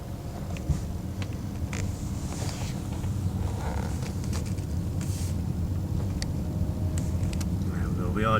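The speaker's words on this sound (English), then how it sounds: "We are driving, as you can see." A BMW E39 5 Series being driven after an ABS fault repair, heard from inside the cabin as a steady, loud low rumble of road and engine noise with some wind, continuous throughout.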